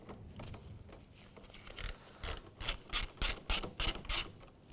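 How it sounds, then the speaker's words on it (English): Ratchet wrench with a 10mm socket loosening the negative battery terminal on a 2013 Hyundai Elantra, a run of about seven sharp, close clicking bursts that grow louder toward the end after quieter fiddling. "We're going to do that with a 10mm socket."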